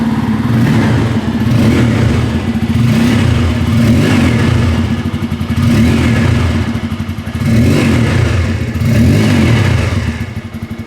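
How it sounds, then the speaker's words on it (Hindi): A Bajaj Pulsar motorcycle engine with dual-barrel exhaust idles loudly up close, then revs in several rising and falling surges with a throaty, rumbling exhaust throughout. "चलिए नीचे में आप लोग को अभी ये इंजन को सुना दूँ।"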